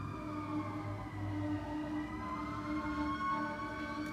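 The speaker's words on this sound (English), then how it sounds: "Confirmation on the sirens" Emergency vehicle sirens wail faintly in the distance, their layered tones slowly rising and falling together in a continuous, quiet drone.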